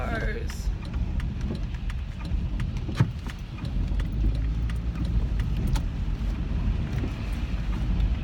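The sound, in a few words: cars passing by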